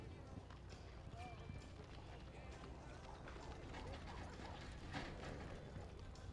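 Hooves of a four-year-old heel horse clip-clop on soft arena ground during a heel roping run at a rope horse futurity, a quick running beat under crowd noise and a voice speaking, at moderate distance.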